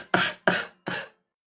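Three separate coughs in a steady rhythm from a person with a cold, close and fairly loud. Short pauses separate them and silence follows.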